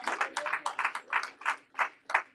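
A short run of congregation hand claps in a Baptist church service, about eight in a fairly even rhythm, fairly close and moderately loud with no talking.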